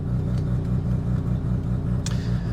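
Tuned car with a Turbo Lamik 8HP transmission, engine rumbling steadily with more throttle at higher RPM, a close, continuous low drone with no clear rise.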